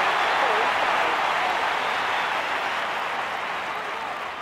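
Crowd cheering and applause from a London 2012 Olympics video game long-jump event, a steady broad roar filling the whole span and slowly fading, with no talk over it.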